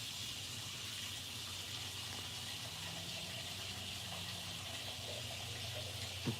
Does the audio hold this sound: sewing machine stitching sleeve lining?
no